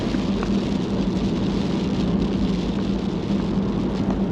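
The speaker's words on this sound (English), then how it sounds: "Woken up to a perler and it starts raining." Steady broadband rain falling on the Eyre Peninsula near Murphy's Haystacks, a continuous dense hiss with a low rumbling undertone, loud and close throughout with no voices.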